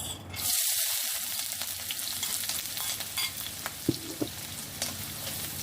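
Onions sautéing in hot oil at the start of an okra stir-fry, a soft steady sizzle with occasional spoon scrapes and light clinks against the pan.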